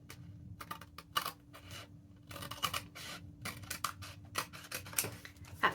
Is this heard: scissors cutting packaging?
yes